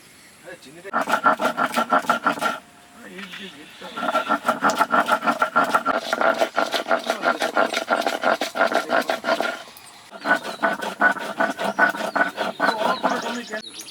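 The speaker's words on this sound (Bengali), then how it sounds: "আদা রসুনটা আমি একসঙ্গে বেটে নিচ্ছি" Ginger and garlic are ground together into paste on a stone, with a steady rhythmic rasping and scraping that continues in long runs with short breaks. Someone speaks over the grinding.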